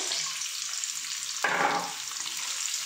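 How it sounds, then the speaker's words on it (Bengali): A sudden burst of sizzling as potatoes hit hot oil, settling into a steady frying hiss over a quiet background. "তো দেখো আলুটা প্রথমে আমি একটু ভেজে নেব"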